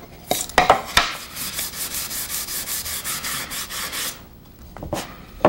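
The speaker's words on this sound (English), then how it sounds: "The important thing is that you get the wax onto the entire surface" A cloth or pad rubs wax across a small wooden box in a quick, steady back-and-forth, the close dry scrubbing strokes broken by a few sharp knocks and taps.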